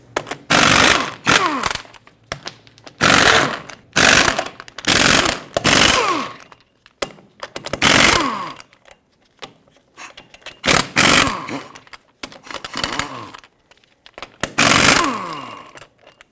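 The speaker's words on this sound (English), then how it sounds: "Now remove all 8 of your 22mm lug nuts." Impact wrench spinning off 22mm lug nuts from a Chevrolet Silverado 2500 HD wheel, eight loud rattling bursts of a second or so each, with short pauses between, close up and with no talking.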